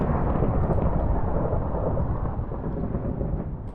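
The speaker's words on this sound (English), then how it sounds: "that was a seriously loud lightning strike" A loud, sustained rumble of thunder from a lightning strike in GTNH Skyblock, a modded Minecraft pack, rolling steadily for several seconds with dense low-end roar and no speech.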